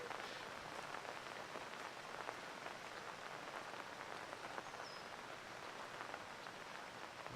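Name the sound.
rain falling during a golf tournament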